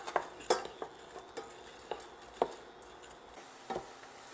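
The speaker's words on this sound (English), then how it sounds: "we're going to stir this continuously for 12 to 15 minutes until the onions start to get a little golden" Sliced onions in a pan are stirred with a utensil, giving a series of scattered scraping clicks against the pan over a faint, low sizzle, close and unaccompanied by speech.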